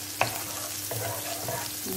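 Garlic frying in a little oil in a pan, a continuous close sizzle with stirring scrapes and a sharp clink near the start, no talking.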